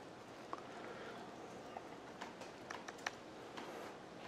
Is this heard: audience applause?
no